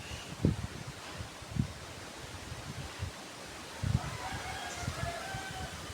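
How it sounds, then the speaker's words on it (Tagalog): Strong wind rustles through trees at a school with a steady noisy hiss, punctuated by a few gusty thumps against the microphone. "Malakas ang hangin."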